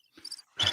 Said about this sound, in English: Little crickets there.